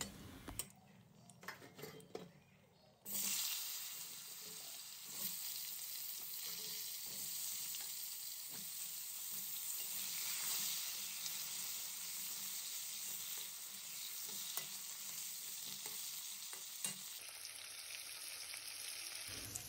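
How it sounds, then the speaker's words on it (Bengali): Long-cut potato strips sizzle loudly in hot oil with whole spices, a dense continuous frying hiss with occasional stirring and utensil scrapes against the pan, no voices over it. "লম্বা লম্বা করে কেটে রাখা আলুগুলোকে দিয়ে দেব"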